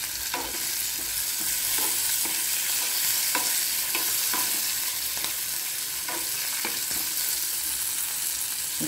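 Lentils and green chilies fry in a pan with a loud, continuous hiss, while a spoon stirs through them in regular scraping strokes about once a second, heard close up.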